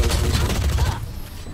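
Sustained automatic fire from an Ares machine gun in the video game Valorant, a loud rapid burst of shots that stops abruptly partway through.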